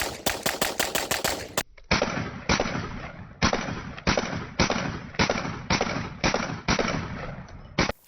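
A Beretta APX A1 Tactical 9mm pistol fires a quick burst of sharp shots, then a longer series of loud, evenly spaced follow-up shots.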